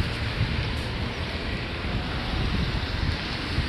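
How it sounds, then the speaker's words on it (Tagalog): Wind blows outdoors on an overcast day, a steady, close rush of broadband noise buffeting the microphone with no voices. "Makulimlim ngayon ng weather. Tapos mahangin."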